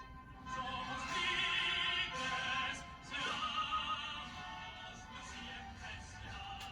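A melodic passage quoting the Peruvian national anthem, played by a piano trio of piano and strings, moderately soft, with phrases swelling and fading.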